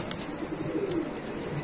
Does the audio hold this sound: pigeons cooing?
yes